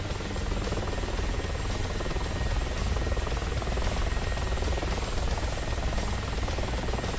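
Helicopter engine in the DCS World flight simulator during a dogfight competition, a steady dense rotor and turbine drone with a faint high whine, constant and loud throughout with no talk.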